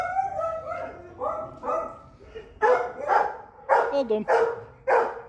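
Dog barking from rescued dogs indoors nearby, a run of loud repeated barks and yips that grow more insistent toward the end, with a man's brief spoken words mixed in.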